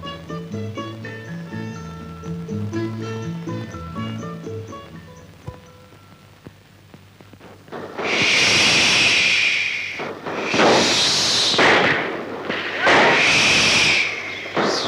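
Firecrackers go off in three loud, hissing, crackling bursts a couple of seconds apart, following a stretch of music with no bursts.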